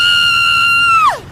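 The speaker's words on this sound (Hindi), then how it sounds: "तभी अचानक मुझे एक चीख सुनाई दी।" A sudden, piercing high scream holds one steady pitch for about a second, then drops sharply and cuts off, loud and alone against a faint low background, fitting a horror story.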